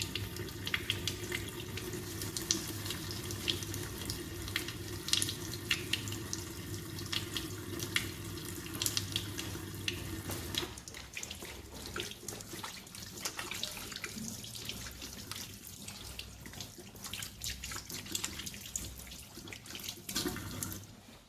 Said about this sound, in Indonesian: Kemudian baru mencuci tangan 6 langkah di air mengalir.